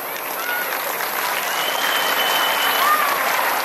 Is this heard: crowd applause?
yes